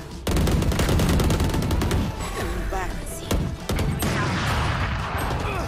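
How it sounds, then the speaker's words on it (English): Raze's swarm grenades in Valorant burst in a rapid, crackling string of small explosions that sound like a dense fusillade. The bursts are loud and close, with brief thuds near the end and no speech during the bursts. "Placing swarm grenade. Still in sight. Swarm grenade out."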